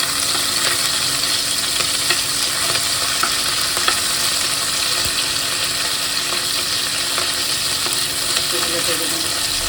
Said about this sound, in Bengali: আর এখন আমি শুটকিগুলো দিয়ে দিলাম তেলের ভিতরে।